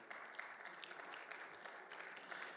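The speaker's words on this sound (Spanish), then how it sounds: "Dale un fuerte aplauso al Señor" A church congregation gives a faint, distant round of applause during a Bible class, steady many-handed clapping heard at low volume throughout.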